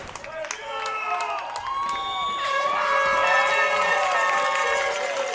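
A Brampton home crowd at an under-16 football championship game cheers and roars in a steady, loud swell, with shouts and whistles rising over the noise. The cheering builds through the moment rather than breaking into one burst.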